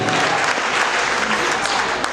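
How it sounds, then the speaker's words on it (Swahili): An audience claps for Joroge James, and the applause is loud and dense, holding steady throughout. It sounds like a lively crowd at a live entertainment event. "wapi makofi ya Joroge James wewe?"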